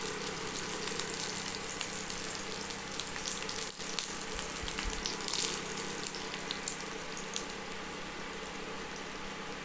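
Chopped onions frying in a pan for a brinjal curry, giving a steady, dense sizzle and crackle that holds close and even throughout, with no voices.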